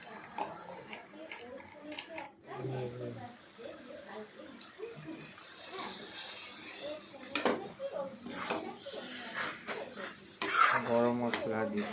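A metal spoon scrapes and knocks against a pan while banana flower curry with garam masala is stirred, giving irregular clinks and scraping close by, with a voice talking over much of it.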